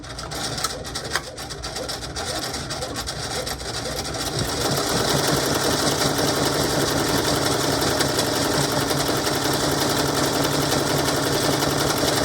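A Brother SE6 10-needle embroidery machine stitches out a design on a hoodie, a continuous fast mechanical whir and chatter that grows louder and denser partway through, close and steady with no talking.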